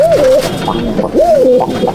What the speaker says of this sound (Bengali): দেখুন মুর্শিদাবাদের পায়রার জোড়াটা